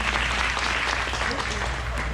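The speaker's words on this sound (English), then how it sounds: "when the crowd clapped for him" Crowd applause at an Equine Affaire clinic, a steady wash of many hands clapping throughout, dense and loud, with voices mixed in underneath.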